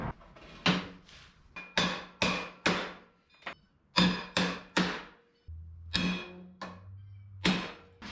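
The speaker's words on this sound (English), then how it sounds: "I guess we could knock them studs out" Sharp metallic hammer blows ring out one after another as wheel studs are knocked out of the axle of a 1961 Chevrolet Bel Air wagon, about a dozen strikes at an uneven pace, loud and close.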